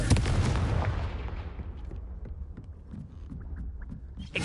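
In the Hogwarts Legacy video game, the Confringo fire spell goes off with a loud, booming burst that rolls away into a fading rumble, followed by scattered softer thuds and crackles.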